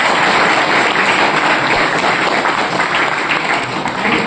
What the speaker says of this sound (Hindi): ताली हो जाए आप लोगों के लिए